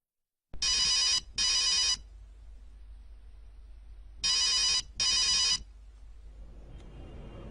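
An unanswered telephone rings loud and clear in a pair of quick double bursts, a pause, then another double burst, with quiet room hiss between rings.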